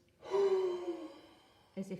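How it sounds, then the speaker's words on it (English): A single forced huff, a long open-mouthed breath pushed out hard, close and breathy for about a second, followed by a short quieter exhale. "breathing out a longer breath with an open mouth at force"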